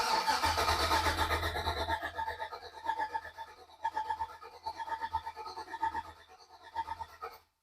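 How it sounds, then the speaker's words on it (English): Starter cranking on a Ford Bronco II with an LS engine swap and a Holley Terminator install, a steady churning whir that runs for several seconds in bursts without the engine catching, fairly close and moderately loud. "Okay, here we go. Cranking."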